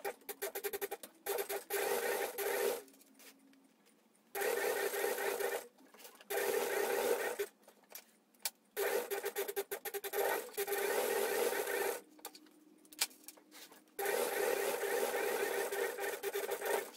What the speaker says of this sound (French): je vais procéder à la deuxième piqûre, mais il va falloir que je change mon pied presseur